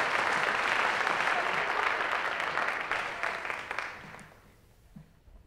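Audience applause at a high school senior awards and cording ceremony, a dense wash of clapping hands that holds steady, then thins and fades out toward the end with a few scattered claps.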